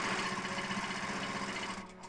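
Sewing machine running a steady even stitch along a seam of a fabric joey pouch, close and continuous before easing off near the end.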